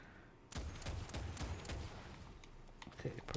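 Gunfire in the Fortnite Save the World video game comes as a rapid burst of shots, close and fairly loud, then thins to sparser clicks and pops.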